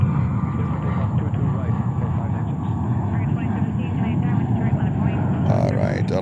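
An Alaska Airlines airliner at JFK airport rumbles with a continuous jet engine roar, steady and fairly loud, joined near the end by brief higher-pitched sounds.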